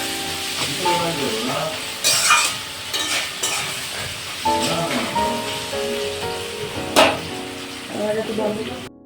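Onions and tomato sauce sizzle and fry in a pan while egg chowmein is being made, a steady crackling hiss broken by clanks as the mixture is stirred, and a voice talks over it now and then.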